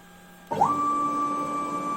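A CNC milling machine drives its Y axis after finishing a Halloween ornament cut, starting with a sudden steady motor whine and mechanical hum that holds level and continuous, close and fairly loud, with no talk.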